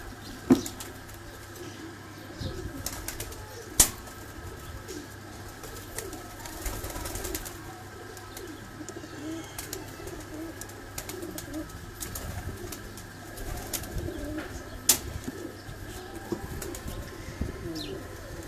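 Pigeons coo softly on a rooftop loft in Kharian, their low, rolling calls faint and ongoing, with a few sharp clicks and occasional wing flutters.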